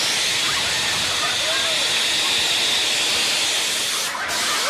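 Dense, loud hiss of steam mist from a rocket chair ignition at a televised race, a steady broadband roar filling the whole moment with only a brief dip near the end.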